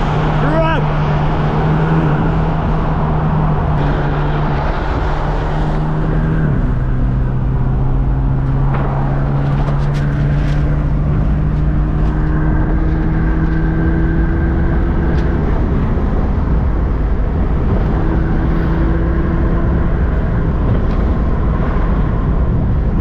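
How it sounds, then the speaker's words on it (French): Engine of a tuned 2015 BMW 428xi Gran Coupe M Sport rated at 297 hp, heard steadily from near with a sustained drone whose pitch shifts and climbs through the run, while people talk over it. "Le bruit BMW frérot."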